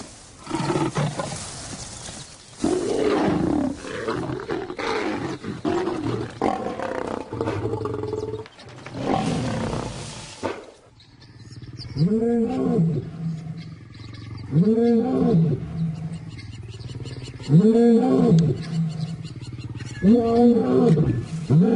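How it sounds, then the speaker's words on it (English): Lions in the bush roar loudly in a noisy, rough stretch, then settle into a series of deep, close roars that repeat every couple of seconds. "And as they roar their displeasure, the cubs scatter into the bush"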